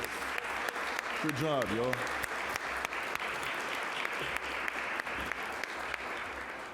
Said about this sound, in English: Give them a round of applause while they walk off, please.